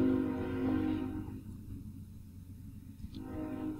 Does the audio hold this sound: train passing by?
yes